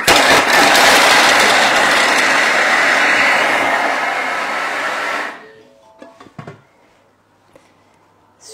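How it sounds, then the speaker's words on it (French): A Thermomix blends bell pepper gazpacho at speed 10, a loud steady whirring roar that runs for about five seconds and then cuts off, leaving a few soft clicks and knocks in near silence. "Et là on va mixer 5 secondes vitesse 10."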